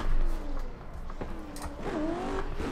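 A car drifting during practice for an HDC round, its engine revving through rising and falling pitches while the tires squeal and scrub, loud and close, with no voices.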